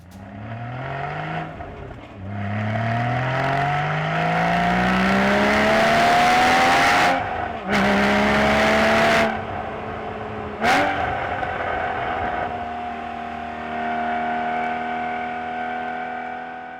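A 2015 Porsche Cayman GT4 sports car drives hard along a twisty public road, its engine revving loudly and rising through the gears with clean breaks between shifts, heard close from inside or near the car.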